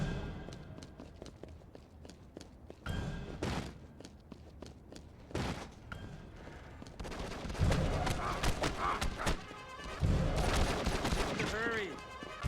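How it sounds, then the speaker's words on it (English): Gunfire in the Enter the Matrix video game, bursts of shots and thuds swelling in loudness across the scene, mixed with game music and effects, with some speech-like sounds. "while also avoiding any sort of gunfire"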